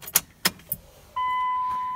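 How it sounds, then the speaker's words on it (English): A 5.9 Cummins truck's electric fuel pump starts after the key is turned. A few sharp key clicks come first, then a steady, fairly loud, high-pitched whine that holds without a break. "You hear the pump running."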